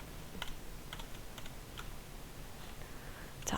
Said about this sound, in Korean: 스페이스바 눌러서.